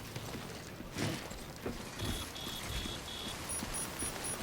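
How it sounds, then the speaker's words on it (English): Steady soft rain falls in the video game Death Stranding, a faint continuous patter with a few brief louder splashes and some thin electronic beeps on top. No one speaks. "It is raining."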